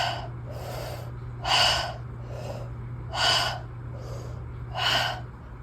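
Faster conscious connected breathwork: three loud, breathy inhale-exhale bursts spaced about every second and a half, with softer breaths between, over a steady low hum.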